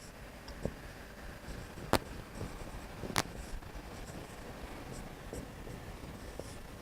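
Equations for a differential-equations lecture on integrating factors are written on a board, giving faint, steady scratching broken by a few sharp taps and strokes in a quiet room.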